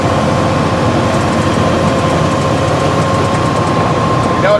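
A 1954 Dodge Power Wagon M37 truck engine running at low revs while driving over a bumpy road, a steady loud droning rumble with road and cab noise throughout.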